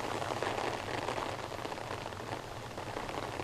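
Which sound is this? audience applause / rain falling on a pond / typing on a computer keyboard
rain falling on a pond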